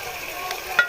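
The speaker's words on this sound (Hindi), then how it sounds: "अब हम इसकी अच्छे से भुनाई कर लेते हैं।" Chicken fries in a pan with salt, turmeric, red chilli and garam masala: a brief, soft, even sizzle with a single sharp tick near the end and no talking.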